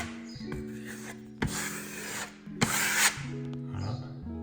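Joint compound being pressed and scraped into small screw holes in drywall with a knife, a few short, close scraping strokes with quiet gaps between them.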